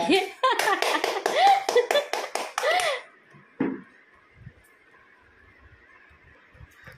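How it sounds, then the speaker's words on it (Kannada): An audience claps together to inaugurate a ceremony, a brisk burst of applause mixed with a voice for about three seconds before it breaks off into near silence. "ಎಲ್ಲರೂ ಚಪ್ಪಾಳೆ ಮುಖಾಂತರ ಉದ್ಘಾಟನೆಯನ್ನು ಈಗ ಮಾಡ್ಲಿಕ್ಕಿದ್ದಾರೆ"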